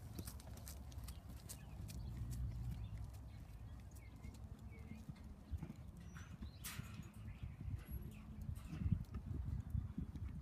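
A horse canters across an arena, its hooves thudding in a steady three-beat rhythm at moderate distance, with faint birdsong and a quiet outdoor background.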